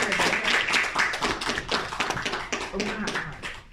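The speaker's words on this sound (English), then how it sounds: "I'm clapping for the audience." Hand clapping at a convention Q&A panel, a quick run of sharp claps in an irregular rhythm, close and fairly loud, mixed with a voice speaking over it.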